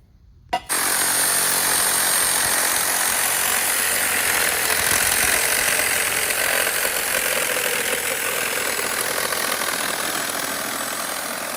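A power tool cuts through a metal part clamped in a vise, part of a clunker build, a loud steady whining grind starting abruptly after a brief click and running continuously without pause.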